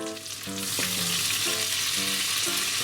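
Pork-wrapped new potato and cheese rolls pan-frying as a splash of sake hits the hot pan, giving a close, steady sizzle with low tonal hum underneath; no voices.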